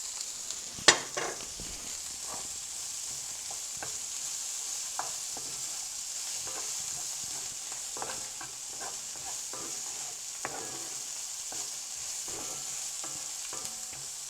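Fiddleheads frying in butter in a pan, a faint steady sizzle with one sharp clank early on and scattered light scrapes of stirring throughout.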